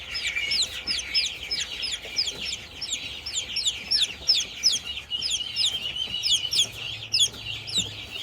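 A flock of bantam chickens and chicks, rapid high peeping chirps and soft clucks repeating continuously and fairly close, with a faint background hum.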